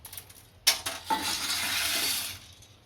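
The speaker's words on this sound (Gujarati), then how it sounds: "પહેલા આમાં આપણે પાસ્તા નાખી દઈશું" Dry pasta for desi corn pasta goes into a cooking pot with a sharp clatter against the metal, then a sustained hiss for about a second and a half. Nearby kitchen ticks come before it, and no voices are heard.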